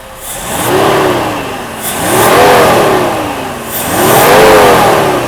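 A Mercedes-Benz W126 300SEL with a freshly repaired fuel distributor revs up three times under throttle, each time rising and settling back toward idle in a close, smooth, even rhythm.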